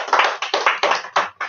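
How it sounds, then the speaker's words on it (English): Short bursts of hand clapping from a small live audience at a past life regression session, coming in uneven waves with brief gaps between them, close and moderately loud. "Another round of applause."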